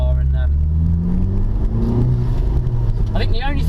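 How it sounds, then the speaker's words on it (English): A 2016 FK2 Honda Civic Type R runs with its exhaust droning and revving steadily, loud and close, while someone talks over it. "I think the only thing is the exhaust note"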